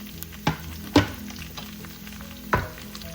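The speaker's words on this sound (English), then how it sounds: "Now we can start sautéing. Our garlics, our onions, and tomatoes." Garlic, onions and tomatoes sizzle in a hot pan with a steady frying hiss, punctuated by three sharp bursts as the ingredients are tossed or stirred.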